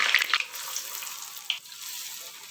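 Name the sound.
lentil fritters frying in hot oil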